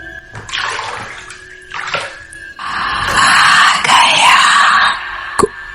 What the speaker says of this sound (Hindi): कुएं के अंदर से पानी के हिलने की बहुत धीमी आवाज आई।